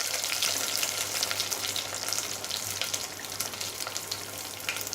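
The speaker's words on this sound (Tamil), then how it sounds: "இந்த வெந்தயம் செவந்தோடனே வெங்காயமும் கருவேப்பிலையும் போட்டு தாளிச்சிக்கலாங்க." Shallots, fenugreek seeds and curry leaves sizzle in hot oil for a South Indian peanut gravy, a steady close crackling fry with fine popping spatters throughout and no talk.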